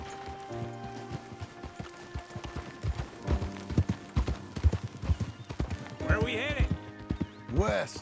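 Horse hooves clip-clop steadily in Red Dead Redemption 2, a rhythmic trot close by with a brief whinny near the end, while voices talk over it.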